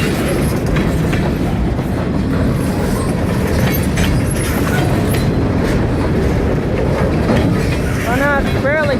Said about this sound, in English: Let's go along with just hear the train.